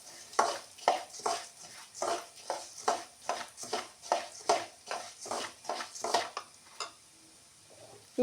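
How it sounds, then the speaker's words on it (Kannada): Fenugreek seeds and asafoetida frying in a pan, with about a dozen rhythmic scraping strokes of a spatula against the pan over a quiet background sizzle. "ಈಗ ಮೆಂತೆ ಮತ್ತು ಇಂಗನ್ನು ಹಾಕೋತೇನೆ."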